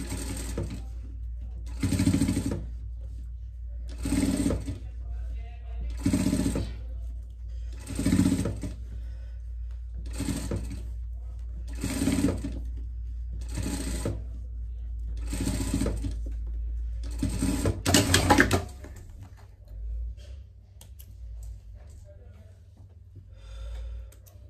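A sewing machine stitches a seam on a pet costume in repeated bursts of about a second each, close and fairly loud, with short pauses between runs and a faint low hum underneath, ending in quiet handling.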